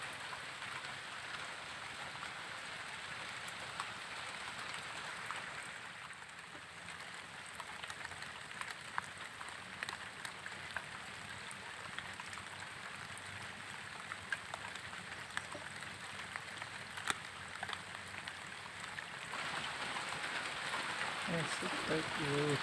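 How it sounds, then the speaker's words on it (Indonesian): Light drizzle falls steadily at a rural fishing spot, a soft continuous patter and hiss of raindrops throughout, faint and even. "Cuacanya masih gerimis-gerimis."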